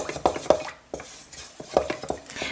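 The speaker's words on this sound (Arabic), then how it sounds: "خبي الصفار تاعها والبياض حطيه في الخليط وحركي" Egg white is stirred into a chicken quiche mixture in a bowl, producing close, soft swishing strokes with a few light clinks of utensil on the bowl and brief pauses between strokes.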